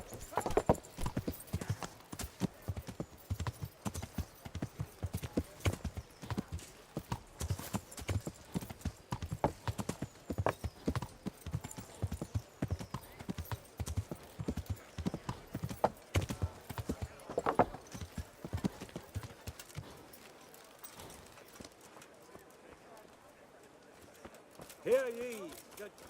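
Horse hooves clip-clop at a steady trot in the medieval role-playing game Kingdom Come: Deliverance, a dense run of close hoofbeats that thins out near the end, with a brief whinny and voices speaking here and there.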